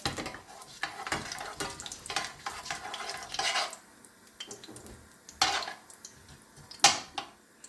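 Whole fenugreek, bay leaf and cumin seeds crackle and pop in hot oil for a fish curry, with a spoon scraping the pan now and then and a few sharp pops standing out near the end.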